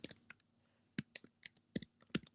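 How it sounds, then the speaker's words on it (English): A computer keyboard is typed on close by in a quiet room, giving sharp, irregular key clicks spread across a couple of seconds. "I'm typing them right now"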